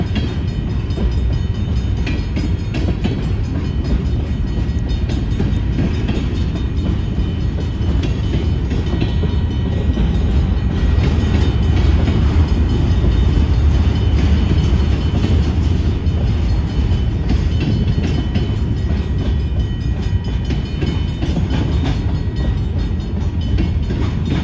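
Union Pacific freight train rolling past a level crossing in Algona, Iowa, a steady loud rumble of wagons on rails that holds for the whole stretch with no break, close by and alone without voices.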